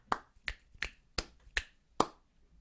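Six crisp finger snaps click out a steady rhythm in a quiet classroom, close and evenly loud with short gaps, the pattern spaced slightly unevenly like a clapped-back sequence.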